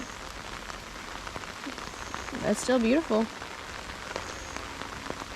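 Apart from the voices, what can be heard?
rain falling on river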